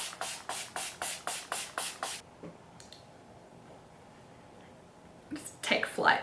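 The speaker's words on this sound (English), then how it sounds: "It's more of like a setting blending spray" About eight quick, evenly paced pumps of a makeup setting spray, each a close, crisp hiss, followed by quiet and then some rustling handling.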